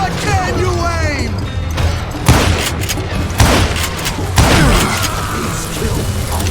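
Gunshots ring out in the Wild West shooter Call of Juarez Gunslinger, several loud, spaced blasts over a steady game backdrop, with a character's voice talking in between.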